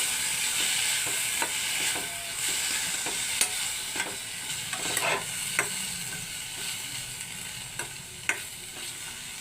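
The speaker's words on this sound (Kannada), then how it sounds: "ಈಗ ಟೊಮೆಟೊ ಕೂಡ ಚೆನ್ನಾಗಿ ಸಾಫ್ಟ್ ಆಗುವವರೆಗೂ ಫ್ರೈ ಮಾಡ್ಕೊಳ್ಬೇಕು." Chopped tomatoes for tomato chitranna frying in a pan, a steady close sizzle broken by sharp periodic scrapes and taps of a spoon stirring, no voices.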